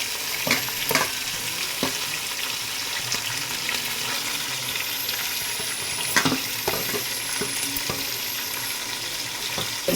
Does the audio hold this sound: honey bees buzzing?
no